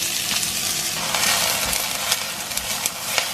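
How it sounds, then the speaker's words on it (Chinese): Chopped scallions frying in hot oil in a wok, a steady loud sizzle with crackling pops and brief stirring bursts, no talk. "锅里面加入油，油热了放入大葱"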